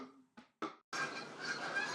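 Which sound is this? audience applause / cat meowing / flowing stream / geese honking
geese honking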